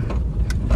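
A Mahindra XUV500 engine hums low and steady at close range while off-roading in clutch, with small clicks and rattles from the moving SUV.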